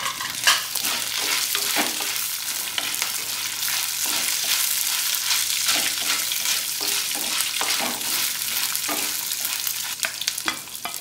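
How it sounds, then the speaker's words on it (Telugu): Lentils and dried chillies frying in a pan for amla rice, a steady dense sizzle with occasional stirring scrapes, close and continuous throughout. "పప్పులన్నిటినీ బాగా వేయించుకున్న తరువాత మిరపకాయలు వేసి బాగా వేయించాలి."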